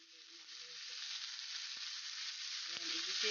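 Meat sautés in a pan until brown, a continuous bright hiss of frying that swells slightly over a few seconds, with a couple of sharp knocks and a faint voice at the start.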